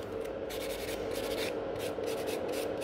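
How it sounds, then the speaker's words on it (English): A file rubs quickly back and forth across the whole surface of a gel nail during an infill, giving a steady, close, soft abrasive scratching in quick strokes, with no talking. "when I'm filing on the entire surface of the nail, I'm kind of filing much quicker"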